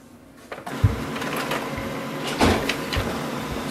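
A Brother MFC-L2710dw laser printer starts printing a document, giving a steady mechanical whir with a few clunks and rattles of paper feeding, close and moderately loud.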